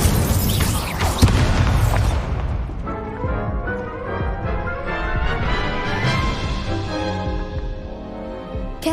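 A fiery Incendio blast from a spell cast in Hogwarts Legacy, a loud booming burst near the start followed by crackling, rumbling magical effects and busy game sound throughout, with no talk.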